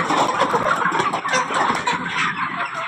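A crowd of chickens at a village poultry farm keeping broiler, layer and native birds clucks busily and continuously, many overlapping birds close by with no talk.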